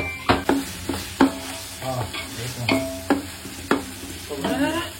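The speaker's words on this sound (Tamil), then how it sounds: "இந்த தக்காளியை அப்படியே தட்டணும் கட்டி தட்டி இப்படி ஒரு கிண்டு நல்லா வதக்கணும்" Tomatoes being mashed, stirred and sautéed in a pan while cooking biryani, a loud close run of spatula scrapes and knocks against the metal over a steady frying sizzle.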